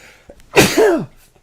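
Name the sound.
sneeze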